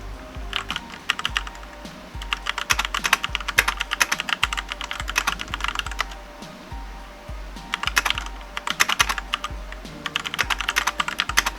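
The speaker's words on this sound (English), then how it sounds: "this is how the keyboard sounds like." Fast typing on an Ajazz K870T mechanical keyboard fitted with brown tactile switches, a dense close clatter of keystrokes in steady bursts with brief pauses between them, and no voices.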